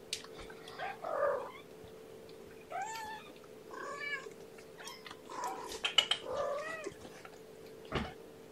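Several kittens meow in high, wavering cries, in repeated bursts with short pauses, close by and fairly soft, over a faint steady hum in a quiet morning room.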